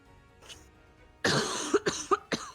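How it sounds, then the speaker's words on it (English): A few sharp coughs in a quick burst, close and fairly loud, after a quiet moment with faint breathing. "I'm going to try not to cough."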